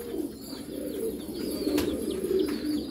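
Female pigeon of an old breed cooing in soft, low, continuous murmurs, with a brief faint chirp or rustle partway through, close by and steady.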